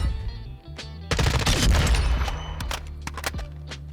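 Union Guard weapon firing in Modern Warfare 2: a dense, loud burst of rapid gunfire with booming reports, followed by a few separate sharp single shots fading out.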